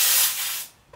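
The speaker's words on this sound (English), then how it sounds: "Did you just spray her?" A burst of aerosol spray hisses loudly at close range for over half a second, then trails off into quiet, aimed at a person.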